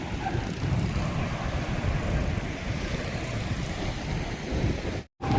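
Sea waves wash onto the beach in a steady, broad roar mixed with wind buffeting the microphone, with a brief dropout near the end.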